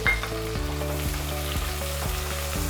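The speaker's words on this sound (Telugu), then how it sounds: "గోల్డెన్ కలర్ వచ్చేంత వరకు ఆనియన్స్ని ఫ్రై చేసుకోవాలి." Green chillies and onions fry in light masala for tomato bath, a steady close sizzle with faint rhythmic stirring clicks running throughout, no voices.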